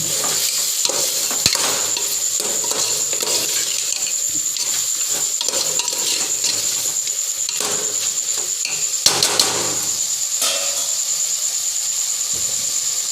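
Tomatoes for Hyderabadi chicken curry are stirred in a pan, with steady sizzling and frying and a spoon scraping the pan in repeated strokes. A few sharper clatters stand out, and nobody speaks.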